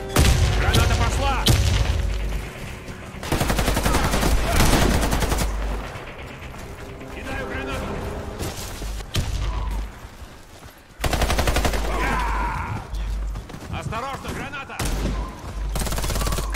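Grenade blasts and gunfire in the shooter game Warface, with heavy booming explosions and bursts of rapid automatic fire coming in loud repeated waves, separated by brief quieter gaps.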